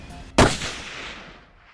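A single loud, close rifle shot fired at a whitetail buck during a hunt in the Nebraska Sand Hills, with a sharp crack that rolls off into a long fading echo across open country.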